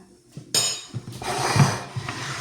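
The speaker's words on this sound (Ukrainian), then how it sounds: "Тепер беремо і ріжемо яйця" A knife cuts boiled eggs on a board while a layered salad is made at home, with a few light taps and soft scraping knocks, close and quiet, with no talk.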